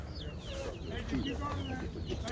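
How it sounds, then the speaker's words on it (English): Chickens cluck and chatter nearby against a busy outdoor flea market background, short clucks scattered through the moment. "Got some chickens."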